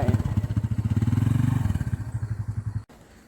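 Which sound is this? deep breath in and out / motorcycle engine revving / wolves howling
motorcycle engine revving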